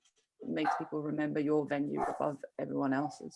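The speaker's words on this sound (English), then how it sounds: "That's my dog barking." A pet dog barks in the background at home while a person talks steadily over it, the barks partly masked beneath the voice.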